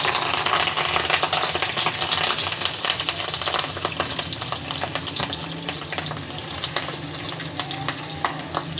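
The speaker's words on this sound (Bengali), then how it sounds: "লবণ আর হলুদ মাখিয়ে আমি মাছটা ভেজে নিচ্ছি" Rohu fish coated in salt and turmeric fries in a pot, crackling and sizzling close by while a utensil scrapes and clatters, busy throughout without speech.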